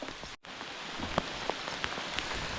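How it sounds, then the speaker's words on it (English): Steady rain falls outdoors on a fishing trip, a continuous hiss with scattered sharper drop taps and splats close by, briefly cutting out for a moment before resuming. "Because it's raining now."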